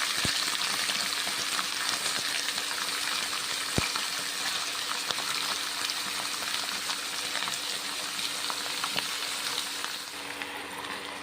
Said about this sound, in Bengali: বাঁধাকপিগুলো কড়াইয়ের মধ্যে ছেড়ে দিচ্ছি গরম তেলে রান্না করে নিচ্ছি